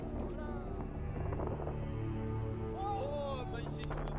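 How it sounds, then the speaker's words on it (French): Steady strong wind from a coastal squall rushes and buffets the microphone throughout, with a low rumble underneath and a person talking over it. "on a énormément de vent à cause du coup de galerne"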